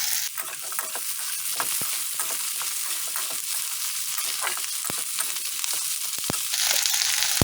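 Thinly sliced baby corn and capsicum frying together in a pan, giving a bright steady hiss close by, punctuated by sharp scrapes and taps of a spatula and growing slightly louder toward the end.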